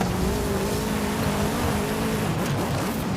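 A car in Forza Horizon 5 drives with a steady engine drone and road noise, rising and easing as it slows for a turn, heard up close with no talking.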